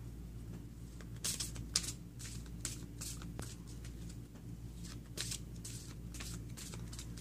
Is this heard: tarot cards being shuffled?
yes